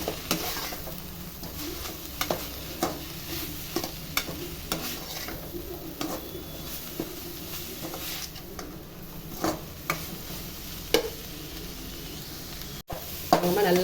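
Banana flower mixture sautéed in a pan, with a steady soft sizzle and regular spoon scrapes and taps against the pan, close and without talk.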